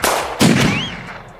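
Two sharp gunshot blasts ring out a fraction of a second apart, loud and close, each followed by a booming echo that decays slowly, with no talking.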